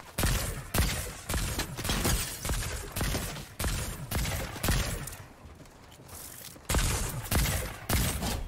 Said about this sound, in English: Someone shooting from behind?